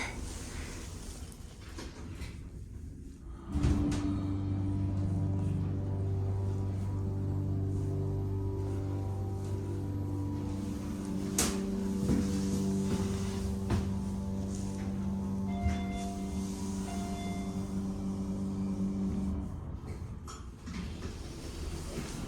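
Elevator motor at a Toronto TTC subway station hums steadily with low tonal whines, starting after a few seconds and running continuously alongside faint mechanical clicks.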